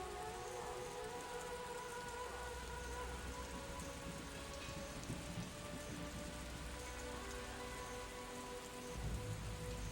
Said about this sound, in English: the rain effect does feel like Metal Gear Solid 2.